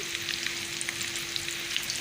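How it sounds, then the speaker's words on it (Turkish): Steady, close sizzling and crackling of doner meat with thyme and salt frying in a hot pan, a constant bubbling hiss with no talking. "Bu şekilde kızartacağız."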